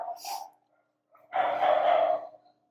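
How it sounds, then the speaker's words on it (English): Dogs barking outdoors, with one short bark and then a longer, louder burst of barking about a second later, heard alone with no talking. "you hear the dogs outside, they're like barking at each other"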